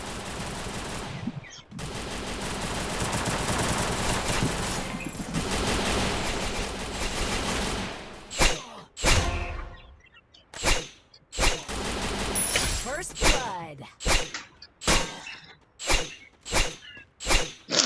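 Gunfire in a shooter video game during a 4v4 ranked match: a dense, sustained automatic burst for about eight seconds, then a string of separate loud, sharp shots spaced roughly a second apart, with no talking.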